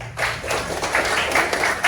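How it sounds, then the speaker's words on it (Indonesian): A classroom of students claps together on cue, a loud burst of dense, overlapping handclaps with a few rhythmic pulses, lasting about two seconds. "Oke, tepuk tangan."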